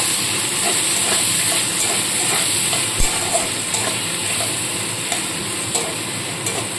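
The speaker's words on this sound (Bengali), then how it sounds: "পেঁয়াজগুলো হালকা একটু নাড়াচাড়া করে নেব সামান্য ভেজে নেব" Sliced onions frying in hot oil for a red lentil khichuri with cauliflower and peas, a steady close sizzle with occasional spatula scrapes and stirring clinks throughout, no talking.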